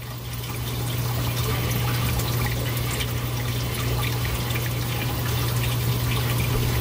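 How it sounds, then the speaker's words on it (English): Water pours steadily into a sample container drawn from a reef tank with a calcium reactor. The continuous trickling fill is close, with a low constant hum of equipment underneath. "Just gonna fill it all the way up."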